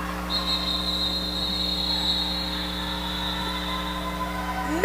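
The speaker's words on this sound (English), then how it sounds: "Many whistles to call off that jam." Referee whistles at a roller derby bout call off a jam with a long, steady, piercing tone that holds for several seconds over a constant arena hum.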